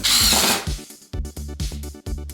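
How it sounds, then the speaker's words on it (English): An impact driver sets two screws into a DIY floating wedding centerpiece, opening with a loud whir and then a rapid, hammering ratchet of impacts in short bursts, close up and alone. "That's an impact driver for you."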